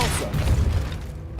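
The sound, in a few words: Depulso force spell cast in video game Hogwarts Legacy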